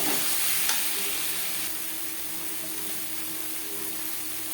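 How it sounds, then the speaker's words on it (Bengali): Steady sizzling of spices in hot oil as salt and turmeric are stirred in for a Bhangor fish curry, a continuous close frying hiss with no one speaking. "লবণ হলুদ মশলার সাথে বেশ ভালো করে মিক্স করে দেবো।"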